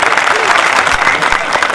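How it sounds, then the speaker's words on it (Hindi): A crowd at a Hindi poetry gathering (kavi sammelan) in Dalli Rajhara applauds a visiting poet, a loud, dense burst of clapping that holds steady for its full length, with murmuring voices underneath. "एक बार ताली बजाए।"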